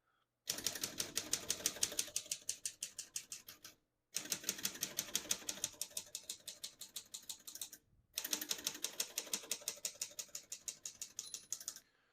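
Rapid mechanical keystrokes clatter from a 1934 Corona Silent portable manual typewriter in three bursts, each a steady run of sharp clacks separated by brief pauses.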